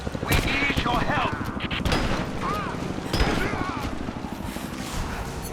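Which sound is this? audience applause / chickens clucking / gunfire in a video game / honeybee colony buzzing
gunfire in a video game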